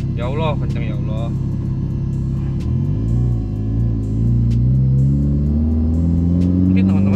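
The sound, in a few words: tuned Honda Jazz engine accelerating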